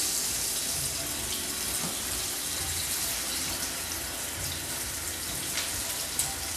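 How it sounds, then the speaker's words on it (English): Two pork chops sizzle in a hot pan with olive oil, a steady hissing and crackling sear that stays even and fairly close for the whole stretch, with no talking. "now we're going to sear the pork chops"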